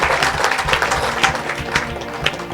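A revival meeting crowd applauds and cheers in praise, with dense, loud clapping and scattered shouts running throughout.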